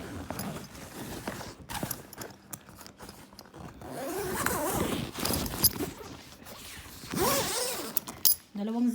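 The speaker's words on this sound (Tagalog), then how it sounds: "Dalawang zipper yan siya dito." Zipping sounds come from the zipper of a winter garden greenhouse cover set up in a garage, several drawn-out rasping pulls mixed with rustling fabric and handling noise, while a person talks over it.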